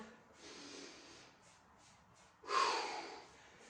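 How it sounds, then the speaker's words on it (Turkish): During a Pilates band workout, someone inhales deeply through the nose: a soft breathy draw, a quiet gap, then a strong, sharp nasal sniff that fades out, heard up close without any talking. "Son kez burundan derin bir nefes al."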